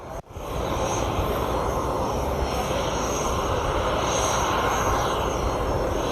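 Indonesian Air Force fighter jets roar in a loud, steady, continuous engine drone that starts abruptly after a brief gap and holds without pause.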